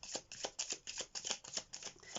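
Island time wellness cards being handled and shuffled, with a steady run of soft, quick riffling flicks repeating close by and quietly, with no talking.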